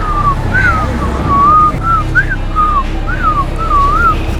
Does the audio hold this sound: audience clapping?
no